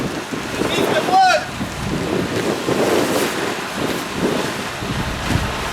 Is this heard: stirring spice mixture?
no